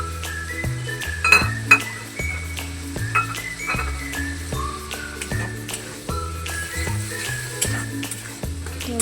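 Chopped tomatoes with spices fry in a pan, a steady sizzle under repeated scraping and stirring, with occasional clinks of a utensil against the metal. No one speaks.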